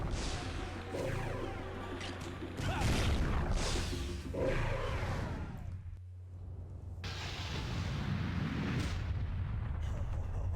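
Cannon fire in the PS2 game Blood Will Tell: Tezuka Osamu's Dororo, with several heavy booming blasts rolling over continuous game music and effects, loud and close, with no talk.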